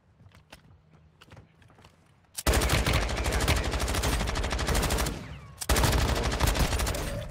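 Automatic gunfire in the mobile shooter game Warzone Mobile, loud sustained bursts of rapid shots after a quieter opening, briefly pausing before another close, dense volley.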